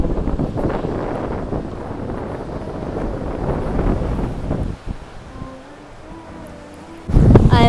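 Strong wind on the Curonian Spit near Kaliningrad buffets the microphone with a loud, roaring rumble that eases briefly before gusting hard again.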